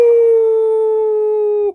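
A man imitates a wolf howl with his voice, a single loud, steady sustained tone held close for nearly two seconds before it drops off abruptly.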